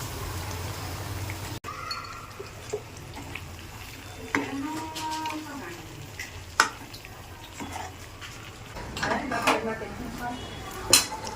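Paneer curry being mixed in a pot, with metal spoon clinks and scrapes against the pan over a faint simmering sizzle, in irregular close bursts.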